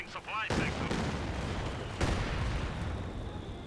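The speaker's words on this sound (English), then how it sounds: "Katusha Barrage may take up the Pioneers." A Katyusha rocket barrage in the video game Company of Heroes 2 delivers sharp launch bursts followed by a rolling rumble of impacts at moderate volume, with a faint voice briefly heard near the start.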